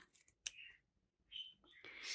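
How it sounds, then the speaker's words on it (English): Sewing scissors clip into fabric toward a stitched corner: a few soft, short snips and faint rustles, very quiet and close, with no talking. "take your scissors and clip up to that corner, but not through the stitches"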